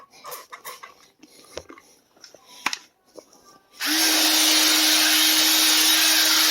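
A Bissell carpet cleaner starts up partway through, after some quiet handling clatter, then runs loud and steady with a constant motor whine and broad suction hiss until the end.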